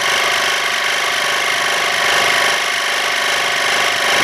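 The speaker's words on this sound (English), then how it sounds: "use the compressor to air up your tire" A portable tire air compressor powered from a car cigarette lighter runs steadily with a loud, continuous mechanical buzzing drone and rattling vibration, close by and alone.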